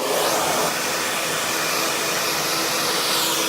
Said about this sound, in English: Okay, so I'm going to put the dryer on.